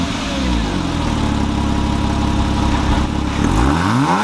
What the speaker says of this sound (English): So we're going to go ahead and turn on this vehicle